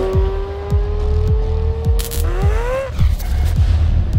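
A Chevrolet Corvette C8 Z06 engine climbs loudly through a high rev, the tone rising steadily before a sharp shift and renewed pull, close and dominant with no talking.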